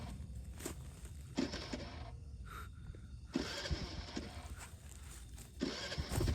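A motorbike near a campsite revs in several sharp, rough bursts separated by quieter idling stretches, sounding fairly close but muffled.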